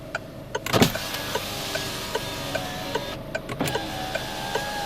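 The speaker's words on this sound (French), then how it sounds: "les vitres électriques sont entièrement automatiques" Automatic electric power windows of a 2013 Citroën DS4 1.6 e-HDi whir steadily up and down inside the car, with a few soft clicks and thumps as the glass starts and stops.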